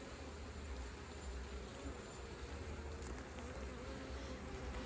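Honeybees swarm around an open hive during hive maintenance, making a dense, continuous buzz that stays steady throughout, close and fairly soft, with no voices.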